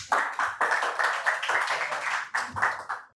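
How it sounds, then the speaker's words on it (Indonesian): Audience applause in a lively stand-up comedy room: loud, sustained clapping from a crowd with short dips, swelling again near the end. "Tepuk tangan lagi untuk Una."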